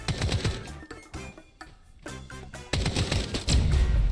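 Rapid bursts of gunfire in the video game Escape From DucKov rattle in quick succession, with sharp repeated shots and a heavier burst at the end.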